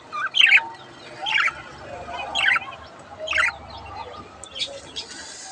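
Pet budgerigars kept through winter chirp in a series of four bright, close tweets spaced about a second apart, followed by softer scattered chirps, with no talking.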